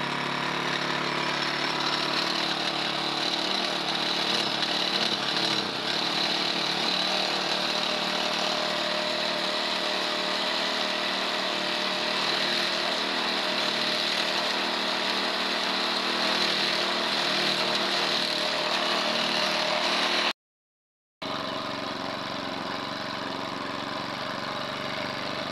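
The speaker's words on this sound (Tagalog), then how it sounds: "napaandar na natin yung ating nakuhang kalakal na grass cutter" A salvaged grass cutter engine running loud and close, a steady high-pitched two-stroke buzz that holds evenly, cuts out briefly near the end, then resumes.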